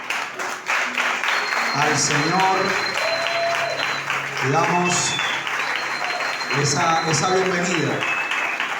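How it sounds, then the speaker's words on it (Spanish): A church congregation applauds during a Spanish-language Wednesday discipleship service, sustained clapping running under someone speaking over a microphone with musical keyboard tones sounding in the background. "Vamos a brindarle un fuerte aplauso"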